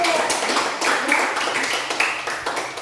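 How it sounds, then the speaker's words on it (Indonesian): A classroom of junior high students claps for a classmate during a Christian religious education lesson, a steady, dense patter of many hands close by and filling the whole stretch, with some faint voices mixed in. "Iya, tepuk tangan untuk"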